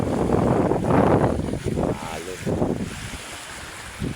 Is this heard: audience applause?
no